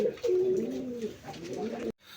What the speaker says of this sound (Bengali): একবার কুচকুচা কালো একজোড়া মুখী কবুতর